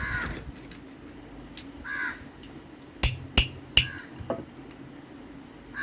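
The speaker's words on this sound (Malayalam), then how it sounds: "അടുത്തതായി ആണി കയറ്റുകയാണ്" A blacksmith in Kerala hammers a nail into the wooden handle of a knife: three sharp metallic taps in quick succession stand out above a quiet workshop background, with bird caws scattered throughout.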